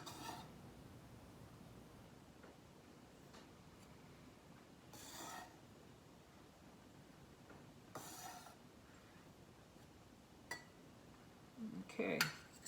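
Garlic and flavorings being combined in a bowl in a home kitchen: quiet scraping and light clinks of utensil against dish, a few sharper knocks, and a cluster of clattering near the end.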